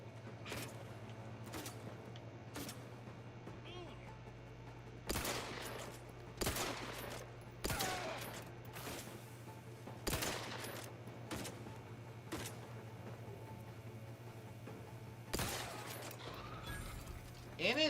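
Gunshots in The Outer Worlds video game ring out as a series of sharp, separate cracks, some louder and closer than others, spaced irregularly over a steady low hum.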